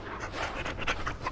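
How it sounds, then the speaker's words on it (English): Dog in the video game Dragon Age: Origins panting, a quick run of short, breathy close huffs in a steady rhythm, fairly soft, with no talk. "Hello, doggy."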